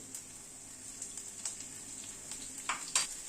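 Crushed garlic cloves hitting hot mustard oil seasoned with nigella seeds, a steady soft frying sizzle with a few sharper crackling bursts near the end.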